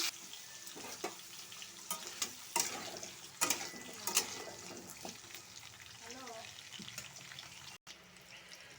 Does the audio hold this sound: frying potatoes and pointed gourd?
yes